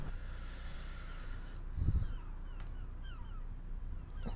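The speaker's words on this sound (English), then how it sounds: "Hear the gulls, you know you're close to the beach." Seagulls call faintly in the distance near the seafront in the OMSI 2 bus simulator game, a few short cries over a low steady bus engine rumble.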